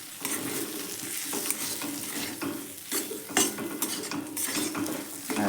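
Spiced vegetarian ghugni masala with cumin and coriander powder is sautéed and stirred in a pan, giving a steady close sizzle with repeated scraping and clinking of a metal spatula against the cookware.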